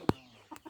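Two hens in a small coop give short clucks, one sharp close cluck followed by a couple of softer ones, brief and fairly quiet.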